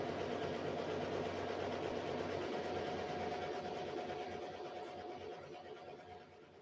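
An embroidery machine stitches continuously with a steady, fast mechanical whir and rattle, fairly quiet and gradually fading toward the end.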